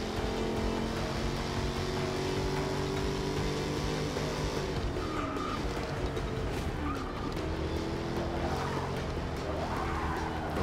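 Car braking hard and skidding in the racing video game Forza 6, a loud continuous engine drone with tire squeal running through the whole stretch.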